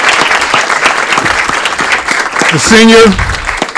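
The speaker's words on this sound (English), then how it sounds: "Big round of applause again" An audience at an Aurora city council meeting applauds an honoree, sustained clapping under a loud amplified voice speaking over it, close and prominent.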